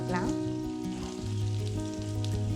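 Onion and tomato sautéing in sesame oil in a pan for a sundakkai puli kuzhambu, a steady close sizzle of frying that continues without a break, with a voice talking faintly over it.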